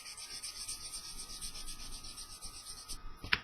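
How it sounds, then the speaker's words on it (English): Steady abrasive rubbing as the joined seam of a two-half fuel tank is hand-sanded to even the halves, a continuous scratchy texture with close, uneven strokes and a brief sharper scrape at the end. "That's just with the initial sanding."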